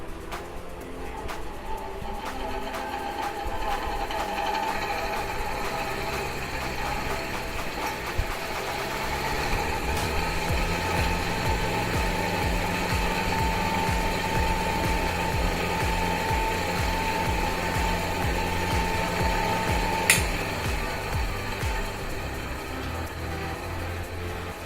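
A 30-year-old 1990s Crompton Greaves Transair exhaust fan running steadily, a continuous mechanical whir with a rattling, ratchet-like motor hum that stays loud and close.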